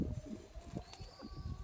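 An Andhra pigeon coos in soft, low murmuring pulses close by, brief and alone over a faint background.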